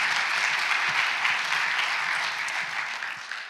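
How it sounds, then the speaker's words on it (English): An environment conference audience gives a short, steady round of applause for the sponsors, dense and even before it tails off at the end. "Please, a big round of applause for these speaker sponsors."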